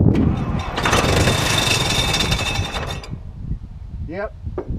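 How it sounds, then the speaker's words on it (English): An IH 2504 tractor engine with carburetor problems, started on a squirt of starting fluid, cranks and catches in a loud rough burst for about three seconds, then dies, followed by quieter clanks and a short rising squeal. "So it'll start with just a squirt of start fluid, but it won't run."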